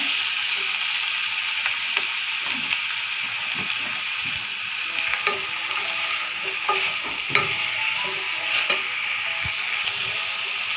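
Three chopped onions sauté in extra oil with green chillies for a poori masala, giving a continuous close sizzle with scattered clinks and scrapes of stirring throughout.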